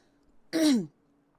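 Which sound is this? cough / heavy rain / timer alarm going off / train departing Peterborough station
cough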